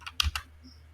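A few crisp keystrokes on a computer keyboard while typing code: a quick cluster of close clicks, then quiet.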